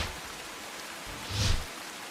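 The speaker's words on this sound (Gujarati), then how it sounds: "સુરતમાં ભારે વરસાદથી ઠેર ઠેર પાણી ભરાયા" Heavy rain pours down in Surat with water flooding the roads, a dense, steady hiss of downpour that swells briefly, with no voices.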